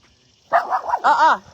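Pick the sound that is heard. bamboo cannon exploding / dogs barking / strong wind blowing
dogs barking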